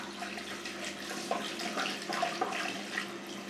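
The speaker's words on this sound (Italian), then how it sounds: "poi sciacquo il visetto. Acqua calda" Warm tap water runs into a sink while a face is rinsed after a traditional straight-razor shave, a steady moderate stream broken by splashes and small bursts from handfuls of water.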